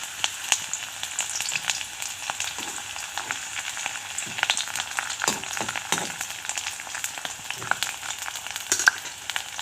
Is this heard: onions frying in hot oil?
yes